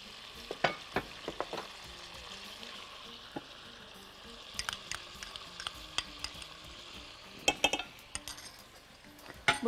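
Garlic sizzles softly in butter in a pan, with occasional clinks and scrapes of a utensil stirring it.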